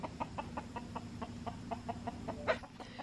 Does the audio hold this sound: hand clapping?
no